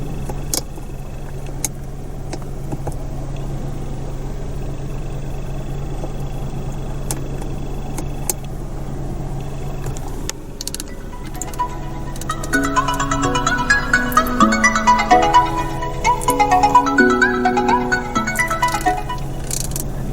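Music played through the six-speaker sound system of a 2016 Mazda CX-3 2.0 Skyactiv-G SE-L Nav, starting with a low hum and faint clicks, then melodic notes rising to a moderate level inside the cabin.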